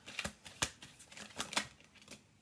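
A deck of cards is shuffled close by, with quick riffling and snapping bursts in an uneven rhythm, quiet and heard alone.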